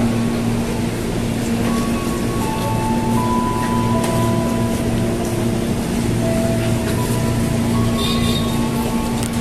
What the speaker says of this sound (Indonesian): Kita lihat kereta bandara akan segera lewat.